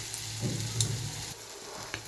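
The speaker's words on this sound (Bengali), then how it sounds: "এবার আমি ভাজবো।" Maggi noodle balls dipped in gram flour batter fry in hot oil, giving a steady close sizzle with a few brief pops, heard alone without talk.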